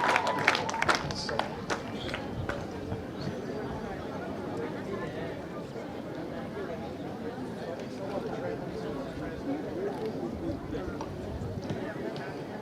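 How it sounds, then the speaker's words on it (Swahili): Sustained applause from an audience at the launch of the Nawiri project in Isiolo County, a dense, steady wash of clapping lasting throughout, with voices mixed in. "Makofi tafadhali, makofi, makofi, makofi."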